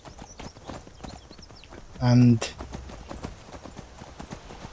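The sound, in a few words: horse galloping hooves in video game Skyrim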